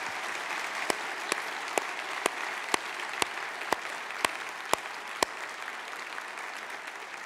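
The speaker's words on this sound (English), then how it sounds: "Now you can clap." A church congregation claps at a Memorial Weekend service, a faint, distant, steady wash of applause with sharper individual claps ticking at an even beat, and no talking over it.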